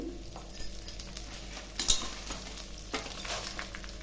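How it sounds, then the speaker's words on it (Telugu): Chana dal, cumin and dried red chillies fry in a pan, a soft continuous sizzle with occasional stirring clinks, close and without talk. "కొద్దిగా కరివేపాకు వీటిని దోరగా వేయించుకుందాం"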